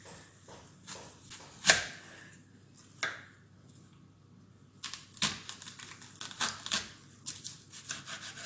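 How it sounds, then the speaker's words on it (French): A knife cuts an onion into quarters for a blanquette de veau. Close, irregular crisp taps and crunches of the blade against the board come in scattered bursts. "Donc j'ai coupé l'oignon en 4."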